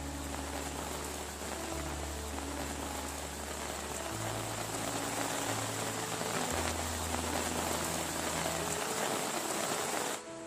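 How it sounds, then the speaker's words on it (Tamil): Heavy rain pours down steadily in Theni's hill areas, a dense, continuous hiss of drops striking surfaces that stays loud and unbroken throughout, with a low hum running beneath and no voices. "3 மணி நேரத்திற்கும் மேலாக கனமழை கொட்டி தீர்த்தது"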